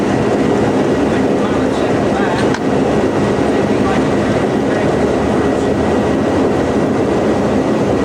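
A Lockheed Super Constellation piston engine running on the ground during a 1990 cylinder jug change, a loud steady roar filling the whole stretch, with voices faint underneath.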